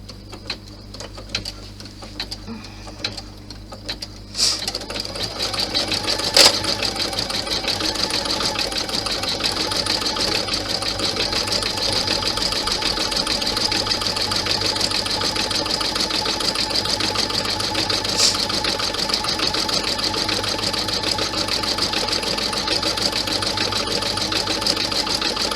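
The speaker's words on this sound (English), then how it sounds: "So now it's going to stitch the" An embroidery machine stitches a panel on a 40-inch in-the-hoop bag strap: quiet at first, then a steady, fast mechanical whirring and ticking of the needle that runs continuously, close and fairly loud, with no talk.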